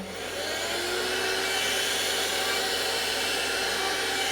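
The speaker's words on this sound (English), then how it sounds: "That's the sponge, by the way, that I'm vacuuming." A vacuum cleaner sucks at a brand-new sponge, a loud, steady whooshing drone that runs unbroken and close throughout, with no talking over it.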